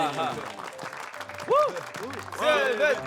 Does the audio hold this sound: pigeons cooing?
no